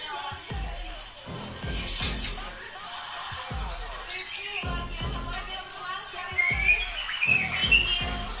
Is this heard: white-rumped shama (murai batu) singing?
yes